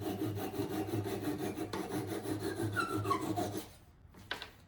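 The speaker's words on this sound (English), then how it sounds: "So this is the saw. I think they call this a Japanese saw or something like that." Wood being cut with a Japanese pull saw while building an outdoor patio chair, a steady raspy rubbing stroke after stroke up close, then stopping before a brief final scrape.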